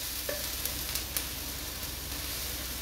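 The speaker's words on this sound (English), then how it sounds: "just sauteing those onions" Onions sautéing in a hot pan for garlic prawns give a steady, even sizzle throughout, with a few faint scrapes and taps near the start and no voices.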